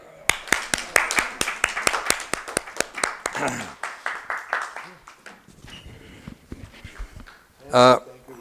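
Audience applause at an Urdu literary gathering, a burst of sharp, loud claps fading after a few seconds, then a quiet stretch with voices before one brief loud noise near the end.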